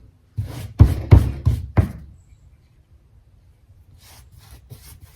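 A brush strokes a coat of finish onto a wooden sign in a few quick, close rubbing swipes, then pauses before lighter strokes resume; no one speaks.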